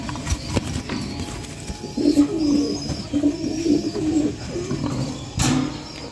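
A native dove coos in a soft, repeated series of low calls, fairly close, over rustling background noise with a few sharp knocks.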